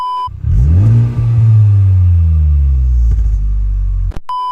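Honda Civic Type R hot hatch driving under load, its engine and fairly quiet exhaust giving a deep, continuous rumble that climbs through a gear with a brief dip before fading out abruptly.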